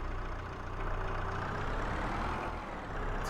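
A skid steer loader engine in a video game runs at a steady low idle, a continuous rumbling drone with no voices over it.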